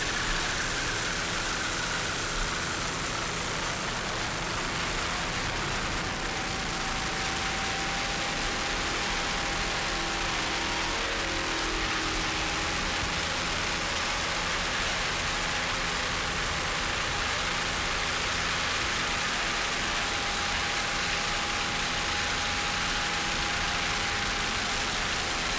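Offshore Super Stock racing boat engines at speed in a 2007 race, a steady broad roar with a sustained tone that glides gradually higher, continuous and unbroken, without talk.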